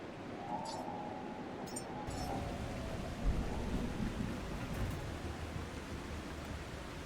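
Rain and thunder in The Last Caretaker video game: a constant hiss of rain with a low rumbling roll of thunder swelling midway, steady and fairly loud, no talk.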